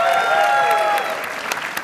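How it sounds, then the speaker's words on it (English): Audience at a Dragon Ball Z voice actress convention panel applauds, a dense burst of clapping from a crowd that starts full and gradually thins out, with some cheering tones mixed in near the start. "let's give the actresses a round of applause."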